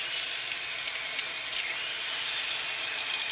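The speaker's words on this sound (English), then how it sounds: "The noise of a dentist drill" A dentist's drill gives a steady, piercing high-pitched whine that holds for about three seconds, its pitch wavering slightly, loud and close with nothing else around it.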